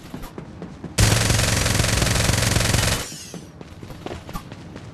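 Sustained automatic gunfire in the battle royale game Farlight 84, a loud rapid burst lasting about two seconds before cutting off, surrounded by quieter game effects.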